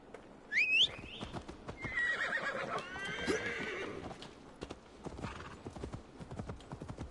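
A horse in Assassin's Creed Valhalla lets out a loud whinny, then trots on with steady clip-clopping hooves that carry on through the rest of the passage.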